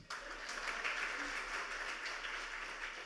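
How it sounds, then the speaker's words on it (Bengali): Steady applause from an audience at a talk on building user-friendly IT products, a dense wash of clapping that starts abruptly and holds evenly for a few seconds at moderate distance. "তাহলে আমার জন্য একটা তালি দেন"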